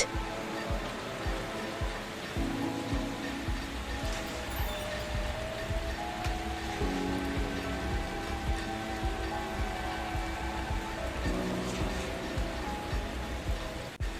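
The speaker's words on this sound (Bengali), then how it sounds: "হঠাৎই শুরু হলো মেঘ ভাঙা বৃষ্টি" Heavy cloudburst rain pours over a village under a dark sky, a dense, steady downpour running unbroken through the whole stretch with a musical backdrop layered over it.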